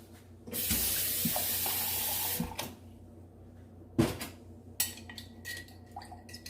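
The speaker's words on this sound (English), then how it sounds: "So just put a little bit more water." Water streams steadily into a cup for about two seconds, then stops, followed by a few light clinks and knocks of kitchenware.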